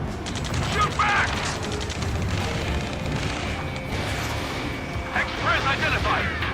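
Gunfire and combat noise in the Ace Combat 7 video game, a steady dense rumble of shots and booms under shouted radio chatter and beeping warning tones.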